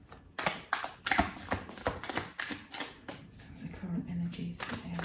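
Tarot cards being shuffled by hand: quick crisp riffling snaps and taps in uneven bursts, close up, with faint low murmuring underneath.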